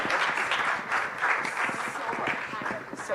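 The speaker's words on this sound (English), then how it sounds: "I want to hear some more applause from the hall." Audience applause in a large hall at a live women's event, steady crowd clapping throughout, with a voice briefly heard over it.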